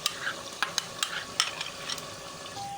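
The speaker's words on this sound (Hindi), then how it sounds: "इस वक्त हम डालेंगे इसमें दही 250 ग्राम या 1 पाव।" Yogurt goes into hot oil in a frying pan, with a soft steady sizzle and quick clicks and scrapes of stirring, close and fairly quiet.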